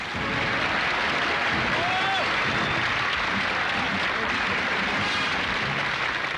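A crowd of men and women from many trades cheers and applauds in a welcome, a dense, loud, unbroken wash of clapping mixed with cheering voices throughout.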